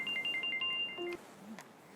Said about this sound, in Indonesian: saya angkat telepon sebentar